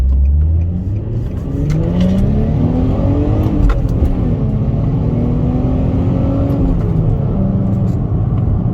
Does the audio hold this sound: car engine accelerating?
yes